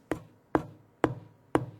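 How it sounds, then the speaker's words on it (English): Four evenly spaced knocks of a finger tapping on a bass guitar's wooden body, dull and resonant, close up with no voices. "I can demonstrate this by banging on the side of my bass."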